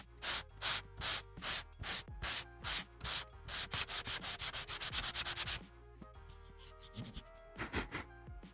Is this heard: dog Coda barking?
no